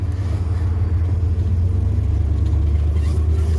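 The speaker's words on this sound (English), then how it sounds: "Got a car coming, of course." A vehicle's engine rumbles low and steady nearby as a car approaches and passes, a continuous medium-loud drone without any talking.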